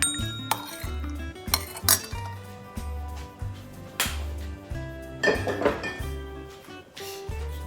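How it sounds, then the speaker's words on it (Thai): Utensils clink and scrape against a bowl while stirring ingredients, in a repeated rhythm, close and fairly soft, with occasional sharper knocks. "คนส่วนผสมทุกอย่างให้เข้ากันนะคะ"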